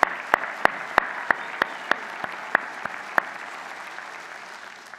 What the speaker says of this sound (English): how about a special round of applause for our graduating class of 2018